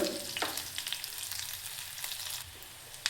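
Crushed garlic with dried red chillies frying in hot oil for radish sambar crackles in a close, steady sizzle, with a few stirring clatters near the start and a sharp knock at the end.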